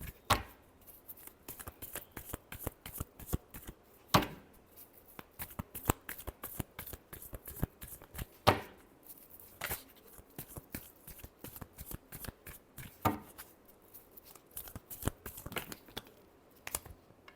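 A deck of tarot cards is shuffled close by in quick, papery riffling bursts, with sharper snaps every few seconds as the cards are bridged and squared, continuing steadily with no talking.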